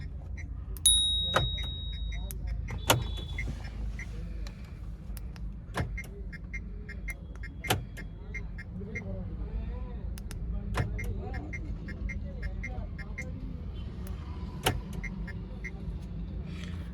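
Several short electronic chirps and clicks come from the original remote locking and unlocking a Mahindra Marazzo, spaced singly across the clip, over a low steady background hum.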